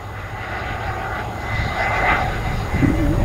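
An RC turbine jet on a long, low landing approach, its engine a steady distant whine and rumble that swells slightly as it passes and then fades back, with no talk.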